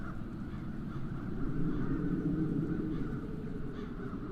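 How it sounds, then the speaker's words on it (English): Crows caw in The Dark Eye video game, a dense, steady clamour of calls that holds at a fairly even level over a low ambient bed throughout. "Those crows stem from the nether hells."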